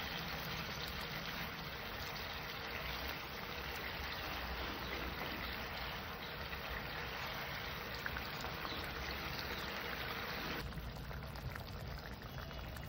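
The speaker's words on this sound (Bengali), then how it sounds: "মাছ দুটোকে দিয়ে আমি আবার একটু ফুটিয়ে নেব।" A pot of Bengali khoyra fish curry simmers with a constant close bubbling hiss, fried fish added to the boiling gravy, steady and unbroken with no talk.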